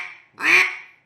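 A duck call blown with a grunt gives a single harsh, raspy, rattly quack about half a second long, close and loud, followed by a fading tail.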